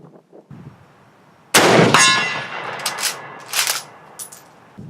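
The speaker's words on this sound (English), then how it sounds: "We're going to shoot this out to 100 yards." A Mosin-Nagant M91/30 rifle chambered in 7.62x54 fires a single loud shot at steel targets 100 yards out, followed by a ringing metallic clang and a few fainter pings and echoes trailing off.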